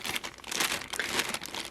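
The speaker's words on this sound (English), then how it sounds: "this is packed in plastic. But I will hold on to this plastic bag and reuse it." Plastic packaging bag from an art supply order being crinkled and handled up close, a dense, continuous crackling rustle with several sharper crunches and no talking.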